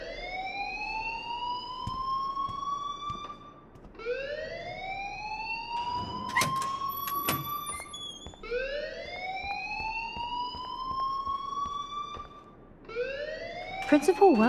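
Wailing alarm siren in the game Life is Strange Remastered, sweeping up in long repeated rising tones that restart every four seconds or so, loud and steady, with a brief burst of other noise partway through and no speech.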